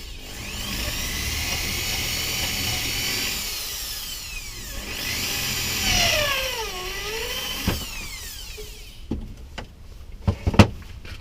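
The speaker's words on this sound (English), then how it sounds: "I'm just going to put some more screws in there" A power drill whines through several long bursts, pitch sweeping as it drives screws into wood of a bait hive body, then stops, leaving a few sharp knocks and clicks.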